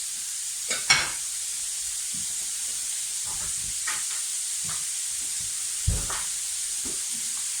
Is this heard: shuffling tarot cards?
no